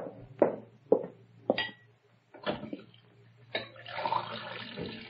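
Radio drama kitchen effects: water run from a tap into a glass, with several sharp knocks and clinks before a short burst of running water near the end, close and clear with no voices.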